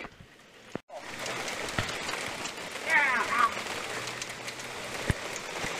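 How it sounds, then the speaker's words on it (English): Hail patters and rattles steadily on surfaces outdoors before a big snowstorm, a dense continuous hiss with sharp knocks, and a person cries out briefly. "This is like 2 minutes of hail!"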